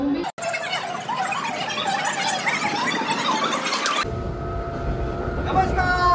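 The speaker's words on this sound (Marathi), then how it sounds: "ट्रेन आलेली आहे" A train arriving at a station near Titwala, a loud screeching squeal of wheels and brakes under crowd noise, then the tone shifts to a lower rumble as it slows.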